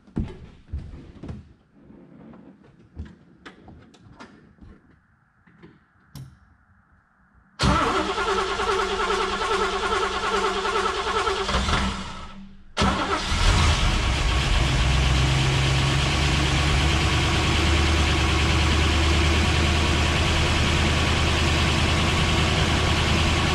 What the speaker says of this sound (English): here's the cold start on our 62 fuel injected Corvette